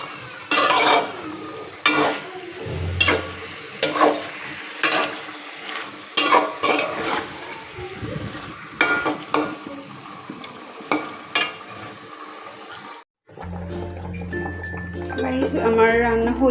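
Curry masala being sautéed in a pan, with repeated scraping stirs and clinks over a low sizzle, someone talking throughout, then a change to quieter kitchen sounds near the end.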